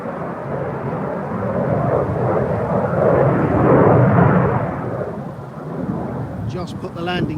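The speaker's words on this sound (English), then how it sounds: "You can hear the sweep of the nozzles as well." Military jet on a low approach and touch-and-go at RAF Lakenheath, a broad continuous roar that swells and fades over several seconds at a distance, with faint voices near the end.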